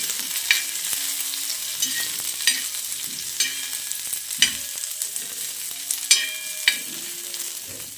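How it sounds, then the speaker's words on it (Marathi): Green chillies roasting in a little oil in a pan over a low gas flame, a continuous close sizzle with sharp crackles and spatters every second or so, no talking. "मिरची भाजते ना चांगलीशी खरपूस आहे ना भाजून घेते स्लो गॅस केलाय"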